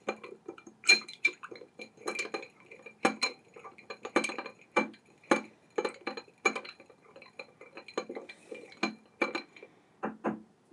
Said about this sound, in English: You stir for approximately 15 seconds.